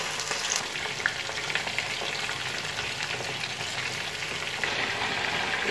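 Chicken malai kofta balls frying in a pan give off a steady, dense sizzle and crackle throughout, close and even in level, with no talking.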